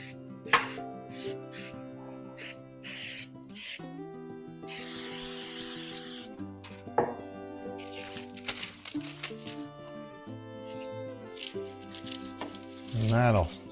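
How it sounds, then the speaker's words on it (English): A person talks, then a single second-long hiss of cooking spray bursts out close by, coating a pan's bottom and sides, before the talking resumes. "I'm going to spray the bottom and sides."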